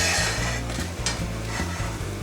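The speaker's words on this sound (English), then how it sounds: "Now that the vegetable oil is heating up, we're gonna add the onions." Chopped onions hit hot vegetable oil in a skillet and fry with a steady, close, loud sizzle and crackle, while a low hum runs underneath throughout.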